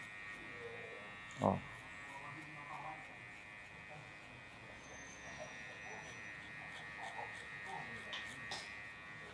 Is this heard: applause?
no